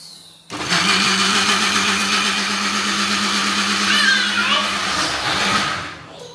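A mixer grinder whirs loudly and steadily for several seconds after a sudden start, then winds down near the end.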